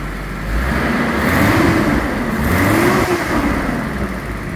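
A 1982 Datsun 280ZX engine idles steadily, then revs up twice in smooth swells before settling back, heard close and loud with no talk over it.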